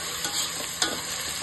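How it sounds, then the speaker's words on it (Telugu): Thinly sliced tomatoes stirred in a frying pan for egg biryani, a steady close sizzle with a scraping stir partway through, no voices. "టమాటాలు కూడా సన్నగా కట్ చేసుకున్నవి 3"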